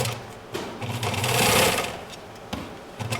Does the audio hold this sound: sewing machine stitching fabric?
yes